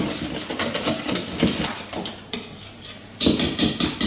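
A whisk or spoon working apple fritter batter in a bowl, repeated clinks and scrapes in an uneven stirring rhythm, close and fairly loud, with a short pause midway.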